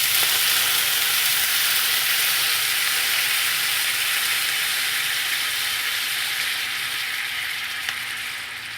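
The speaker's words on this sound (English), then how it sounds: "I will now be adding my chicken stock to the oil." Chicken stock hits a hot, oil-sprayed pan and sizzles with a loud, continuous hiss that stays steady and close before easing slightly toward the end, with no talking.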